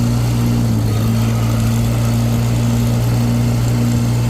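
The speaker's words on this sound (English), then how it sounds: "if I pull the direct drive, it'll bump up in speed a little bit" A Case tractor engine with a Case-O-Matic torque converter running as the direct drive engages: a loud, steady droning hum with strong even tones, close by and alone, with no clear rise in speed.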